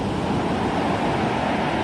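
Ocean surf washing up a beach and pushing rocks along the shore, a steady broadband wash of waves with wind noise, loud and continuous, with no talk.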